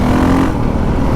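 A new dirt bike engine drones loud and close in fifth gear in power mode 3, a steady buzzing roar held for about a second with no voices.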